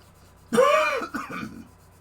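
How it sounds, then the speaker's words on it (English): A single rough cough, harsh and close, set off by lubricant spray during a pinball machine teardown, followed by a shorter throat-clearing hack, then quiet. "As usual, this stuff makes me cough every time."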